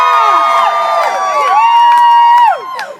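Whistles and cheers from a protest crowd, with shrill sliding tones and shouting layered together close by, sustained then dropping off near the end.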